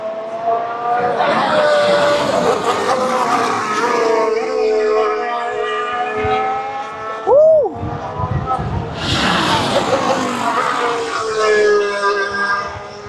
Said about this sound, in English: These cars are actually really loud.